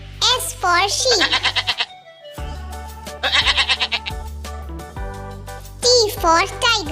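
A sheep bleats in several wavering, pulsing calls spread across the stretch, close and clear, with a voice speaking between them.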